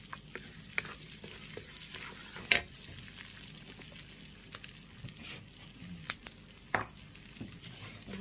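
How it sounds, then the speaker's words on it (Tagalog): Onion sautéing in a pan for a pork pochero, a steady low sizzle under scattered pops and light clinks of the stirring utensil, fairly close and at moderate volume. "Tapos unahin po guys natin ang ating onion. Gisa lang natin ito guys."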